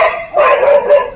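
A single dog gives a short, close bark-like yelp, loud and brief, with nothing else around it.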